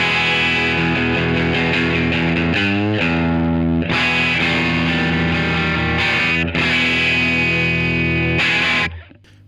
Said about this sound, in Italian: Più o meno il gain al massimo sulla Stereomaster dà lo stesso livello di distorsione della treble and bass a 3/4 circa